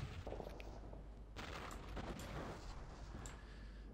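Continuous gunfire in the Fire Warrior video game: dense, rapid bursts of shots and impacts, loud and sustained throughout with a few sharper cracks.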